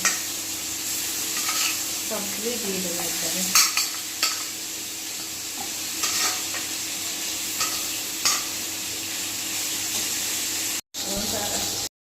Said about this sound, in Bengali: এরপরে আমি বাকি মাছগুলো আবার দিয়ে দেবো ভাজার জন্য